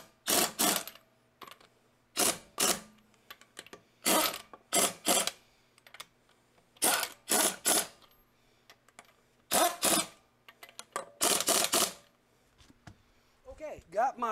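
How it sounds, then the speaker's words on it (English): A torque wrench ratchets and tightens the lug nuts on chrome wheels of a 2005-2009 Ford Mustang, heard as short, crisp clicking bursts that come in pairs and clusters, separated by quiet gaps. "I'm not going to go full torque on the wrench."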